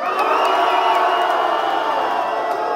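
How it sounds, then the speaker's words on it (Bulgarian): Spectators at a freestyle rap battle championship semifinal holler and cheer for Stivi, a steady, dense wall of crowd noise held at constant loudness throughout. "Който мисли, че Стиви спечели,"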